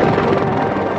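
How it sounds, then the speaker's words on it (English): An AH-64 Apache attack helicopter flies past with a loud, steady thrum of rotor and engine noise, close and unbroken for a brief moment. "Swift and powerful, the Apache flies at over 150 miles an hour."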